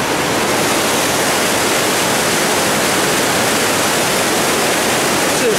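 Creek water rushes downstream in a continuous broadband roar, loud and close, with no voices over it.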